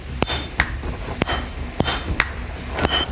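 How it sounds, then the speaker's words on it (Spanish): Large hammers strike red-hot iron in a forge, six sharp ringing blows landing in a steady rhythm about every half second, close and loud with a metallic ring after each hit. "Los estudiantes manejan los enormes martillos que dan forma al hierro al rojo"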